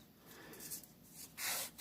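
Soft, close rubbing of a sanding stick on an F6F Hellcat scale model, a gentle scratchy hiss with a slightly louder stroke near the end.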